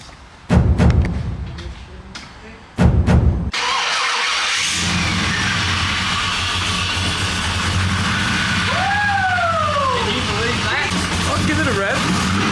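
An LS-swapped Holden VH Commodore cranks with a couple of heavy thumps, then fires and settles into a loud, close, steady idle with a brief rise in revs, with no other sounds over it.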